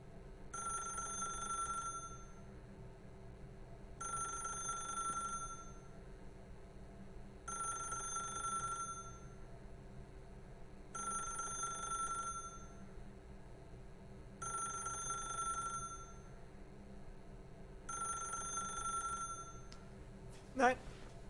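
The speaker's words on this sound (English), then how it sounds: "Ich möchte dieses Telefon nicht abheben." A telephone in The Stanley Parable rings in six evenly spaced electronic bursts of a bell-like tone, steady and fairly loud over a low ambient hum, ending with a brief click.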